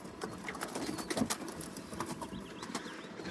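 Birds come back from a training flight, with soft cooing calls and light fluttering heard faintly at a short distance over a low outdoor background.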